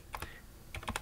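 Keys on a computer keyboard are typed in two quick bursts of light clicks, separated by a short pause, quiet and close.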